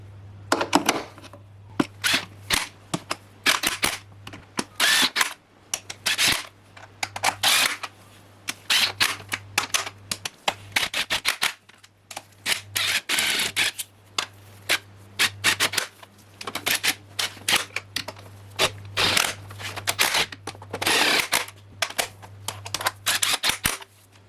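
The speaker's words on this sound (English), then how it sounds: "So we installed all the bolts and you go to tighten for the rocker cover." Bolts on a Mazda 6 rocker cover being tightened by hand, a long run of rapid ratchet clicks in quick bursts with short pauses, close and crisp over a steady low hum.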